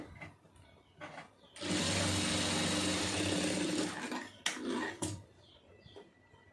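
A sewing machine stitches cloth in one steady, loud run of about two seconds, close by, with quieter handling sounds before and after.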